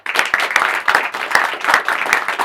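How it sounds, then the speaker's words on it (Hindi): An audience at a Hindi shayari poetry gathering claps loudly in a dense, irregular burst. The applause is close and steady for a couple of seconds, and no voices are heard over it. "पूरी क्रिएटिव बर्ड्स की टीम का एक बार जोरदार तालियां"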